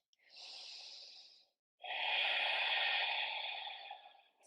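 Slow, steady breaths during a post-workout yoga stretch: one soft inhale, a short pause, then a longer, fuller exhale, close and quiet with no talking.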